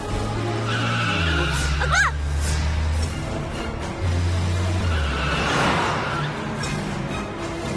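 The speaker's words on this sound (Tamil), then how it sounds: "ஏய் பார்வதி, உன் பின்னாடி வண்டி." A vehicle skids behind a person in a Tamil TV drama scene: a loud screeching slide peaks near the middle and again later, over a low sustained musical drone.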